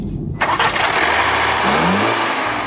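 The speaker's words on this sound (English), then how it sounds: "This crossover's only engine is a turbocharged 4-cylinder designed and built by Ford." Turbocharged Ford-built four-cylinder in a 2015 Land Rover Discovery Sport crossover cranks and catches, then settles into a steady, close mid-pitched idle with a brief rising rev.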